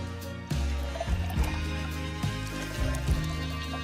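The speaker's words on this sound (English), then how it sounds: "Next, add water." Water poured into a container while mixing margaritas, a gurgling, splashing stream with a few knocks and bumps of handling, close and steady without talk.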